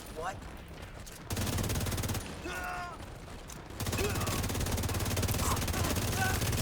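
Bursts of rapid gunfire ring out in a video game, with intermittent volleys over a steady mechanical background and brief voice fragments between shots.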